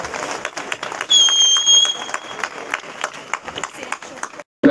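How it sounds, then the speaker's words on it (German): Crowd applause at an outdoor rally in Salzburg, dense clapping near and loud, swelling in bursts, with a brief whistle partway through and a cut near the end. "Großen Applaus"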